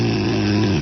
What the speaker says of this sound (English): you said you wouldn't snore